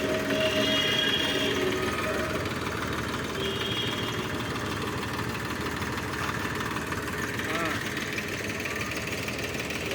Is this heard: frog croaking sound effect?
no